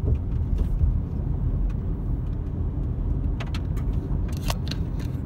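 A car driving slowly up a snowy mountain road toward a closed highway, a steady low engine and road rumble heard from inside the cabin, with a few light clicks and rattles near the end and no talk.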